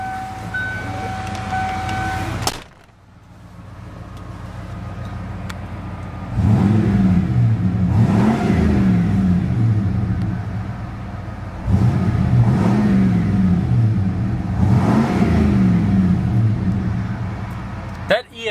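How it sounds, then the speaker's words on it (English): The EFI 5.0-liter V8 engine of a 1994 Ford F-150 XLT starts up and idles, then revs twice with rising, throaty exhaust roars, loud and close. "That EFI 5-liter V8 already has a fantastic exhaust note stock."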